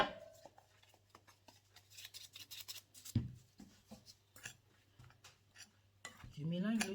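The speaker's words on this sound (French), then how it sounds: "Je mélange le tout." Ingredients including almond and sugar being stirred together in a large bowl, quiet scraping and clinking of a utensil against the bowl in irregular strokes, with a louder clatter near the end.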